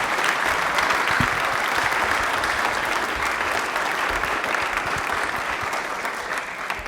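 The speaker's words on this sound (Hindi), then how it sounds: "तालियां एक बार जोरदार हो जाए सुनीता जी के लिए" A studio audience on a Rajasthani television quiz show gives a loud, steady round of applause, a thick continuous clatter of many hands that holds evenly for several seconds and eases only slightly at the end.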